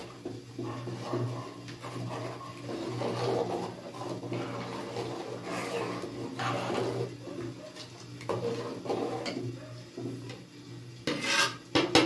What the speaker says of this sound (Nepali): बिस्तारै बिस्तारै हाल्दै चलाउनुपर्छ है